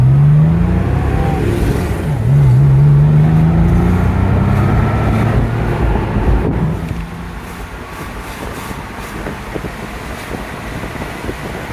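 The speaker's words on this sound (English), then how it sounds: "we're going to get one more jackrabbit start" Close in-car recording of a 1996 Porsche 911 Cabriolet launching hard from a stop, engine note climbing through the revs then easing off as the car cruises, with heavy wind rush and road noise.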